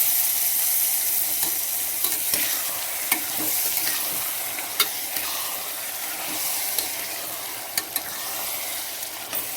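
Mutton being stirred in a pan for biryani, a steady close sizzle and scraping of the spoon running throughout with occasional sharp clinks against the pan.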